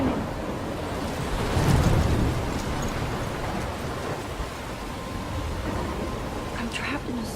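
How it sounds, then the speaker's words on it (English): A storm rages at sea near a lighthouse in the video game Life is Strange, a steady roar of wind and surf with a swelling gust. "I'm trapped in a storm?"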